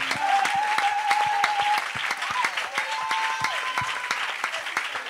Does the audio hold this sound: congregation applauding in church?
yes